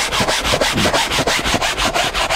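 An ordinary clothes brush scrubs a stained seat in quick, even back-and-forth strokes, producing close, raspy rubbing with no talking.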